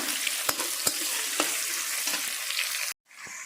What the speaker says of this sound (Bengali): এখানে পেঁয়াজটা একটু বেশি লাল করে ভাজতে হবে